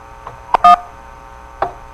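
A telephone keypad sends a few short touch-tone beeps to an automated internet technical support line. Two quick tones sit close together, then a fainter one follows about a second later. Each is crisp, loud and close, with no voices.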